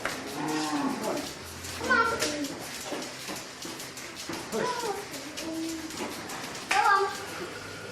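Cows moo repeatedly on an organic mixed farm without pesticides or artificial fertilizers, several moderately loud calls spaced a second or two apart, with a voice speaking over them.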